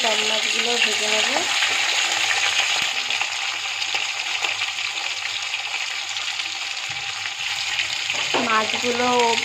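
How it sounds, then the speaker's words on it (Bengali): Pieces of hilsa fish fry in a pan of oil with a continuous close sizzle and crackle, while a voice speaks briefly over it at the start and again near the end. "একে একে এবারে সব মাছগুলো ভেজে নেব।"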